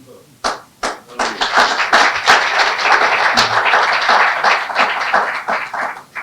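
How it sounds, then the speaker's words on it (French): Audience applause at a French-language book event in honor of a 23-year-old first-time author: dense, sustained clapping from a crowd that builds quickly after a few scattered claps and carries on loudly. "vous demander de l'applaudir parce qu'il n'a que 23 ans en passant"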